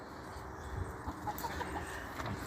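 Chickens cluck softly inside a coop built to keep out cats, raccoons and opossums, a few faint low calls rising over steady background hiss.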